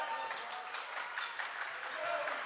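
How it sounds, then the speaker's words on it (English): A basketball student section claps in a steady, fast patter from the stands, while a voice talks over it. "The Nut House going nutty with the hand clapping like the defense."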